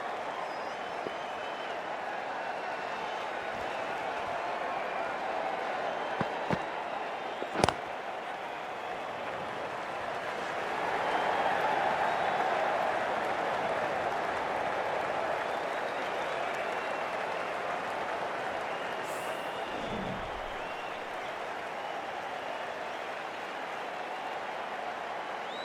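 A large cricket stadium crowd at an India versus South Africa match keeps up a steady, dense roar of cheering and applause for the whole stretch, swelling slightly midway, with scattered louder claps and voices in the mass.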